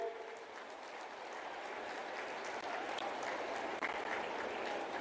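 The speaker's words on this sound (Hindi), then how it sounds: "दोनों हाथ उठा के ताली बजा के।" Sustained applause from a large audience welcoming the Prime Minister at the inauguration of the new Chhattisgarh Legislative Assembly building in Nava Raipur, steady and dense throughout with no talk over it.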